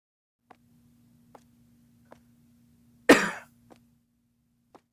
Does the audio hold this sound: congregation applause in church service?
no